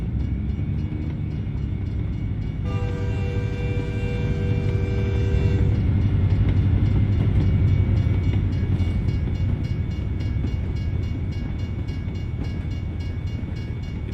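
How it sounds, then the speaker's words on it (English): A freight train rumbles past in the American Truck Simulator video game, with a steady rolling roar of rail cars and a long horn blast sounding near the start. "Oh, look at that train."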